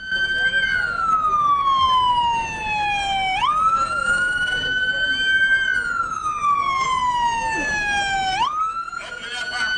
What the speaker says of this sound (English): Opening up our parade today is Chief David Johnson and the Plains Police Car